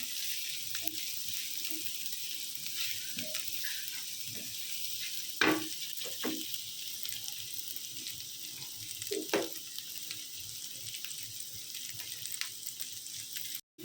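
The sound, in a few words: chilies and onions sizzling while frying in a pan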